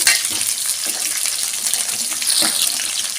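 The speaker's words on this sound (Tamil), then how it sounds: "நல்லா செவந்து வரட்டும் இந்த வெங்காயத்தை" Onions fry in a pan for a garlic tamarind curry, giving a dense, bright, continuous sizzle with faint stirring scrapes, close and fairly loud with no talking.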